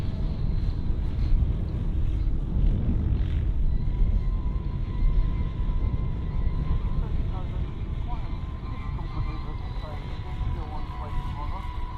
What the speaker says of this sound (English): He puts the landing gear down and he comes along the flight patch